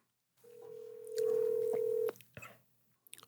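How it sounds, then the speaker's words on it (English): Telephone keypad tones sound as an agent's number is dialed, a sustained steady tone running about two seconds, then a few short clicks and button beeps with no talking. "let's see if I get my agent on the phone"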